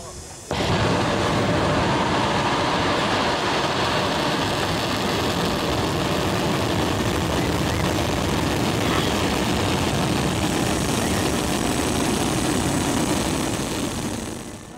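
A Falcon 9 rocket's engines roar after launch as it clears the tower, a loud, unbroken, rumbling blast that starts abruptly and holds for about fourteen seconds.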